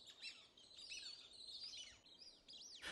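A flock of plumed whistling ducks utters loud, high whistling calls: many overlapping upswept and downswept notes in a steady chatter, ending in a clear rising whistle near the close.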